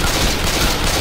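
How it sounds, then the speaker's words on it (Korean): Explosive rounds in the video game Left 4 Dead 2 fire as a loud, dense barrage, a continuous crackling roar of rapid blasts that fills the whole moment. "나 폭발탄이야 말이야. 이 소리."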